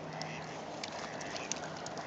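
Ducks crowding close at feet, a few short soft quacks and calls scattered over two seconds alongside faint background voices.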